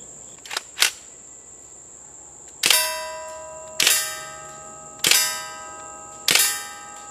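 An Umarex Legends MP-40 BB submachine gun fires semi-automatic, four sharp metallic shots at even intervals, each ringing briefly, close up and alone after two lighter clicks.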